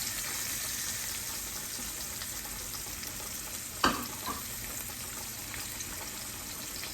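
Mushrooms cooking in a pan for smothered steak give a steady bright sizzle, broken once by a sharp clatter of a utensil against the pan.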